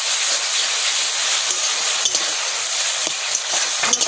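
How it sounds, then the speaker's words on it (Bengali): A spice paste of ginger, garlic and onion fries hard in a pan, a loud continuous bright sizzle with occasional clicks of stirring, no voices. "ভালো করে কষাই নিই।"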